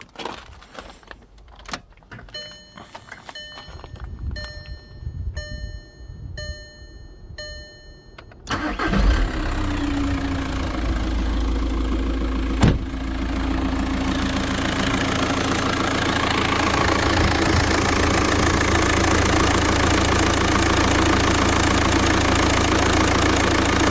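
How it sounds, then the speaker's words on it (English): Keys clink faintly before a car engine, just repaired after a wiring loom fault affecting the injectors, cranks and catches, then settles into a steady, smooth idle close by for the remaining seconds. "So let me show you how the car starts now."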